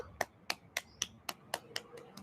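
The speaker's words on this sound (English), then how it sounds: "Everybody clap for yourselves now." A small group of preschool children clap in a slow, uneven rhythm, about eight sharp claps over two seconds, close and fairly quiet, with a faint voice in the background.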